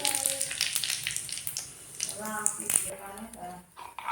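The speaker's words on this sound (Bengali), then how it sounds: "আমার তেল গরম হয়ে গেছে। এরপরে আমি এই যে গোটা জিরে দিয়ে দেবো তেলের পরে।" Whole cumin seeds dropped into hot oil in a kadai, a light sizzle and crackle up close, with someone speaking over much of it.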